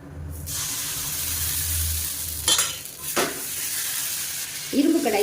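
Rice appam batter of kattuyanam rice poured into a hot pan, giving a steady close sizzle with brief splashy bursts as it spreads and a short scrape near the end.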